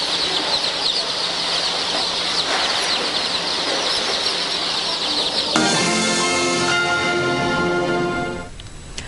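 Live chickens cluck and call in a lively farmyard chorus, steady and fairly close throughout, with a brief flurry of brighter, busier bird noise near the end before it drops away.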